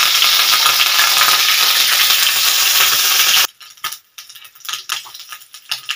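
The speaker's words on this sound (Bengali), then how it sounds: "আদাটা একটুখানি ভাজা ভাজা হয়ে গেছে।" Ground ginger paste fries loudly in a pan, a strong continuous sizzle for a few seconds, then the hiss drops away, leaving quieter scattered scrapes and clinks of stirring.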